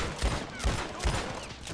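Gunfire in Red Dead Online, three heavy shots roughly evenly spaced across under two seconds, loud and close with ringing tails.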